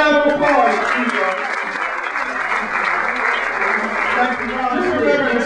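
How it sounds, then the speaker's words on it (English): Audience applause at a professional development session, a dense, loud, steady wash of clapping that fills the whole stretch without pause. "Let's give her a round of applause."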